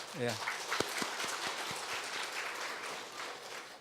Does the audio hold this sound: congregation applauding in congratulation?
yes